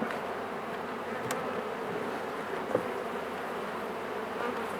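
Honey bees buzz in a soft, steady drone, quiet and continuous, with a couple of faint clicks.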